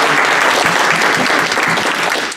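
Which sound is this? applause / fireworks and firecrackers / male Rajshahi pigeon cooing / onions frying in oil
applause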